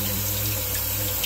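Tap water runs steadily into a kitchen sink while produce is rinsed, a close, continuous hissing stream with no break.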